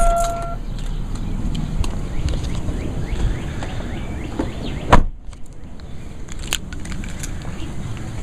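A diesel car engine shuts down: a low idling rumble runs for several seconds, ends with a sharp clunk about midway, and quieter background follows with some faint voices.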